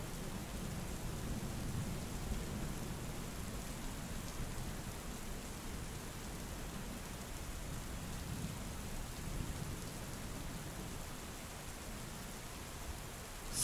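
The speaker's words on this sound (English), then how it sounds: "Through the driving rain," Heavy driving rain in a thunderstorm, a steady dense wash with low rumbling underneath, continuous and even throughout with no voices.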